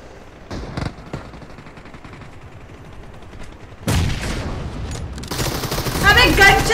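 Gunfire crackles in a mobile battle royale shooter, with a few isolated shots early, then dense bursts of automatic fire that build louder toward the end.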